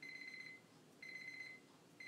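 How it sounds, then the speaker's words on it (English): Alarm clock ringing in a home setting: a shrill electronic beep in half-second bursts repeating once per second, three times, faint and alone with no talking. "The alarm clock's going."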